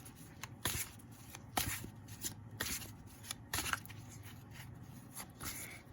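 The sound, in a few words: shuffling tarot cards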